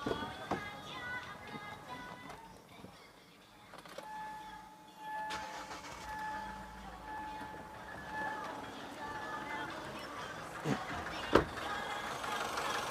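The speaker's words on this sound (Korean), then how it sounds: "네, 지금 시동을 걸었고요" A car engine cranks and catches, then settles into a steady idle rumble, with a faint voice in the background during a test of a 30A driving charger built into an all-in-one power bank.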